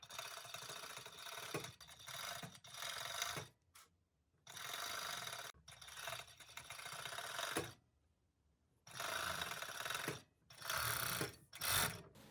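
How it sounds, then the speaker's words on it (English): A serger runs in several bursts while stitching hoodie seams, each run a dense whirring mechanical chatter, separated by short silent pauses, close and fairly quiet. "So I'll serge all the 3 pieces"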